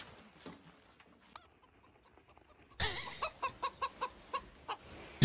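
A chicken clucks in a quick, evenly spaced series of sharp, fairly close clucks after a quiet stretch with faint background sounds.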